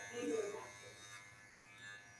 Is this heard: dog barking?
no